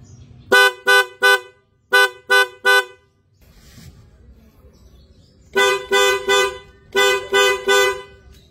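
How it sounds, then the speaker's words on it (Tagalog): A loud Blaupunkt car horn honks in two groups of three short blasts, a quiet pause, then two more sets of three beeps, close by. "na-testing na natin guys yung shell horn. Malakas yung tunog yan"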